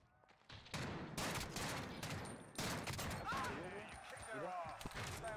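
Call of Duty Warzone gameplay with suppressed weapon fire, a dense burst of close muffled gunshots in rapid volleys over game noise, with a voice speaking at times.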